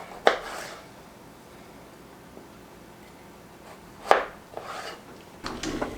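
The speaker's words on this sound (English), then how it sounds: "We're just going to cut these into spears and get them packed into our jars" A knife cutting vegetables into spears on a board for canning: two sharp, separate chops several seconds apart, each followed by a soft scraping rub, close and fairly quiet over a still room.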